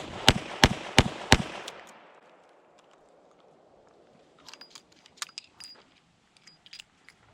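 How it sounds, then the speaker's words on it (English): Five rapid gunshots from a Taurus Public Defender Poly revolver fired at a target five yards away, sharp loud cracks in quick succession, then quiet with small clicks and handling noises. ".we're going to do 5 shots as quick as we can on the target at 5 yards"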